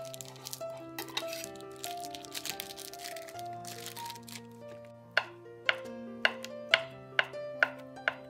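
A knife chops soaked, softened glass noodles on a board for dumpling filling, about seven sharp, evenly spaced strikes in the second half, close and clear over soft background music.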